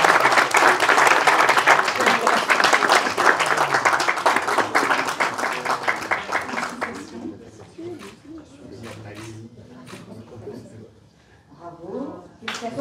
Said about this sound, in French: Félicitations, on peut l'applaudir encore.